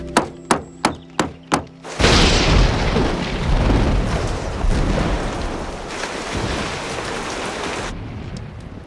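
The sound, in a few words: rain storm with thunder on a roof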